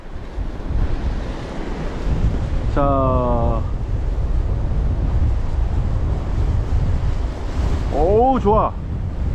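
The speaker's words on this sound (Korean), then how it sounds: "제가 파도 봐드릴게요." Ocean waves and strong wind roar steadily at a rainy seashore during a fishing outing, a continuous loud wash of surf and gusts, with short bursts of people talking over it.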